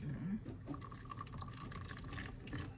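A rock is rinsed in water, giving a faint trickle of running water with small splashes and gurgles, under quiet talk.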